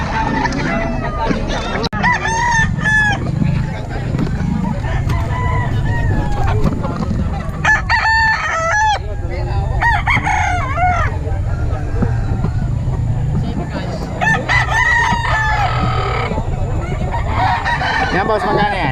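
Roosters and chickens at a bustling chicken market in Bocaue crow and cluck throughout, some calls loud and close, heard over steady crowd chatter and people talking nearby.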